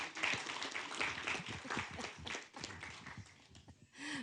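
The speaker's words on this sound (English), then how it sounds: "Let's give our Mayor of the Day a round of applause." Council meeting audience giving a round of applause, quiet and somewhat distant, with scattered individual claps mixed with faint voices.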